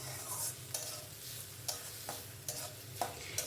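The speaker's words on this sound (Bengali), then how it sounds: "ততক্ষণ ভাজতে হবে যতক্ষণ না পেঁয়াজটা গোল্ডেন ব্রাউন কালারের হয়" Onions frying in a pan until golden brown for an egg curry, a steady low sizzle with occasional stirring scrapes at a regular pace, close and quiet.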